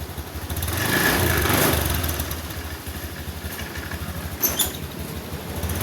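Honda Scoopy scooter engine running, a steady mid-pitched hum that swells over the first two seconds and then settles, close by and continuous, with a few brief sharper clicks near the end.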